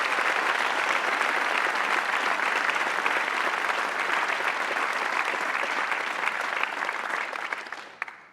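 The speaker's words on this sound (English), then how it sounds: "How about another round of applause for all of today's winners?" Sustained audience applause for winners at a university's 2022 Presidential Awards Ceremony, a dense, even roar of many hands clapping at full level that tapers off near the end.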